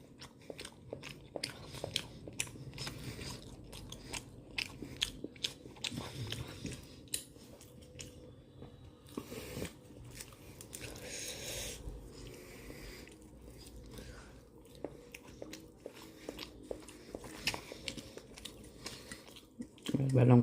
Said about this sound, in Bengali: এবার লঙ্কাটা কামড় দিই